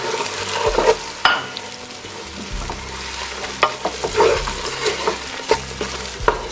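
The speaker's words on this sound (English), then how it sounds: "Stir it." A spoon scrapes and stirs ponmo (cow skin) frying in egusi soup in a pot, with steady sizzling and repeated clacking knocks of the utensil against the pot, close and fairly loud.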